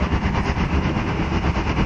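A train running on the rails heard from on board, a loud continuous rumble with rapid rhythmic clatter from the wheels, steady and close throughout.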